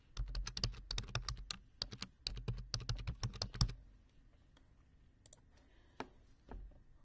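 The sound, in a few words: typing an email address on a computer keyboard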